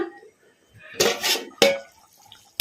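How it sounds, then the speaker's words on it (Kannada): A metal lid comes off a pot of simmering egg masala gravy curry, giving a few sharp clanks and scrapes close by, followed by a final clatter. "ಮುಚ್ಚಳ ತೆಗೆದು ನೋಡೋಣ"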